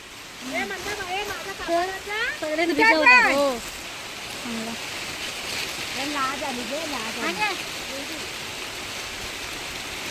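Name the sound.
water running in an irrigation channel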